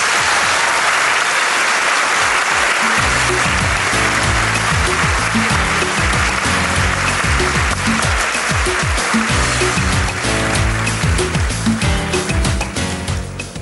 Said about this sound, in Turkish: Sibel Arne'ye alkışlarla kırmızı odaya alıyoruz.